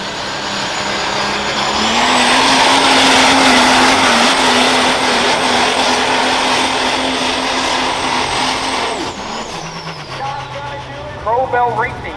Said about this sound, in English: here comes Justin Morse, ladies and gentlemen, a super stock diesel called the Maverick